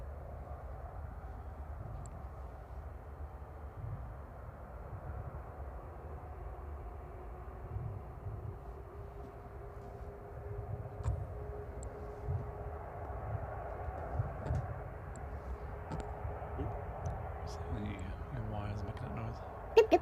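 A British Airways airliner arriving at Manchester Airport, heard as a steady distant low jet roar and rumble that swells slightly toward the end, continuous and moderately faint.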